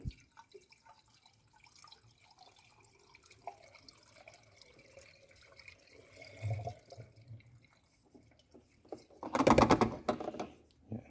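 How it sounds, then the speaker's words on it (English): Radiator flush is poured into the cooling system of a Land Rover Discovery 3, heard as faint, scattered trickles and drips that build to a brief louder gurgling splash near the end. "Alright, so I'm going to put the radiator flush in."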